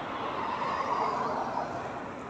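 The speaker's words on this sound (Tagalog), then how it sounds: "Marami pa sasakyan." Road traffic with cars passing by, a steady moderate roadway rumble and whoosh heard from the roadside for a few seconds.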